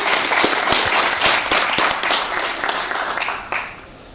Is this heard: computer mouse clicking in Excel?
no